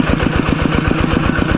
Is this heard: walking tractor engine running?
yes